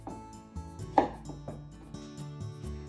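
A knife chopping the ends off a cucumber on a board, a few distinct hard taps spaced about half a second apart, one sharper knock standing out, with no talking.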